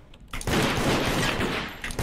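Rapid gunfire bursts in a multiplayer video game about hunting infected friends, a loud dense fusillade filling most of the two seconds after a brief quiet start.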